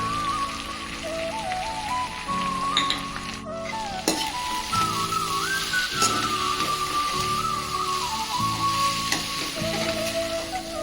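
Okra masala curry with tomatoes fries in a pan after chili powder is added, giving a continuous close sizzle and crackle, with a melodic tone running in the background and no talk.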